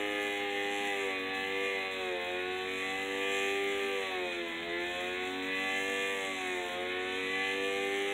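A sensorless 3D-printed brushless DC motor runs at full speed with a steady, high whine and audible vibration, its pitch dipping slightly and recovering a few times, heard up close with no talking.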